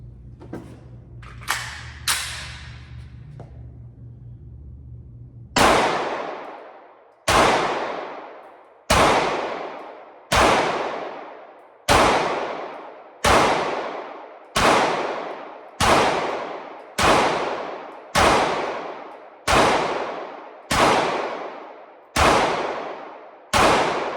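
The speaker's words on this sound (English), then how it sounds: "I actually happened to bring my CZ07 just to trial it, shoot it, center mass" Gunshots from a CZ 07 pistol, about a dozen loud, sharp, evenly spaced reports with ringing tails, fired one by one at a steady pace after a few faint clicks and handling noises.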